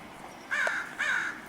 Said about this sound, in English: our crow friends have started to gather for peanuts